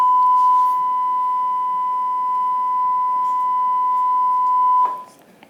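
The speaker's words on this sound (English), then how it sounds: "The weekly fire alarm test is about to be carried out." A building fire alarm during a weekly test sounds a loud, steady, unbroken tone that holds for about five seconds before cutting off abruptly, leaving faint room noise.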